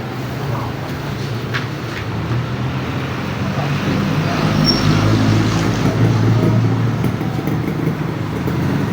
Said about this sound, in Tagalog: medyo maingay dahil tabing kalsada tayo. Yung jeep.